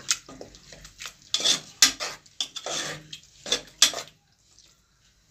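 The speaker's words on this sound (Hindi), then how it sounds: "अब मैं इनको अच्छी तरह मिक्स करती हूँ।" Dried brinjal and tomatoes, Kashmiri style, are stirred in a pot, with a spoon repeatedly scraping and clinking against the metal in irregular bursts before falling quiet near the end.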